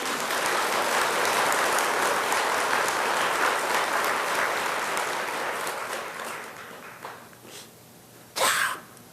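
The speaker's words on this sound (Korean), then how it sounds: "그 노부산한테 박수 한번 보내주시오." An audience at a Buddhist monk's talk breaks into full applause, a dense roar of clapping that slowly thins and fades out, with a brief close noise near the end.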